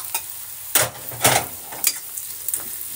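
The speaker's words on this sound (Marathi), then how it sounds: "अर्धा मिनिट याला फ्राय करून घेऊ तेलामध्ये छानपैकी" Peanuts and dal frying in hot oil for a short tempering, a steady close sizzle broken by several loud scraping stirs of a spoon in the pan, with no talking.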